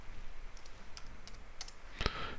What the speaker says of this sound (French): Donc je clique dessus.